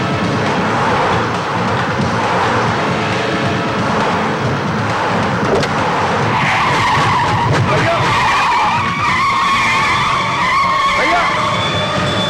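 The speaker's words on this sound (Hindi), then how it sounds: "हाँ भाई, ये नील की गाड़ी आ रही है।" A car arrives with tyres skidding and squealing over a roaring engine, loud and sustained, mixed with dramatic film music and shouting voices.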